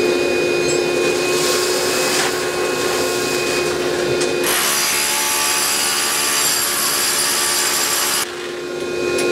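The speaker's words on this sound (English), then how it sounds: "Another place where the vacuum and the HEPA filter come in handy is right," Shop vacuum with a HEPA filter running during concrete core drilling for a home radon removal system, a loud steady whine that shifts pitch midway and then drops in level near the end.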